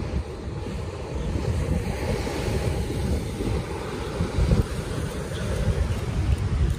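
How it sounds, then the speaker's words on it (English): Surf rolls onto the sand at Umdloti Beach, Durban, on a calm morning: a continuous wash of breaking waves, steady and fairly near, with wind buffeting the microphone and no voices. "What a beautiful morning on the beach"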